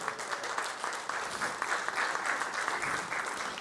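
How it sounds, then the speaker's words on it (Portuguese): A church congregation applauds, a steady, dense wash of clapping from many hands that stays even and fairly close throughout. "Vamos aplaudir ao Senhor, irmão."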